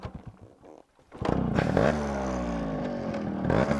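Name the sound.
Yamaha RX100 two-stroke motorcycle engine running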